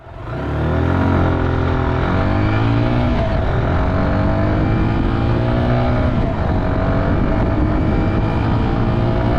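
A 125cc motorcycle engine revs loud and close, a steady rising drone with dense harmonics and fluctuating throttle for the whole stretch, with no voices.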